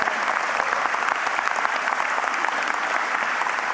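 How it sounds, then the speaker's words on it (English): Steady, dense applause from a crowd gathered at a Virgin Islands Port Authority industry forum, sustained and even at close range for the whole stretch with no speech over it. "give all yourselves a round of applause"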